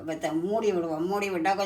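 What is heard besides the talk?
No distinct noise like a dog, phone or traffic.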